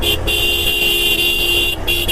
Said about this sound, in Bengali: তাকে আমি হর্ন দিচ্ছি, ডিপার দিচ্ছি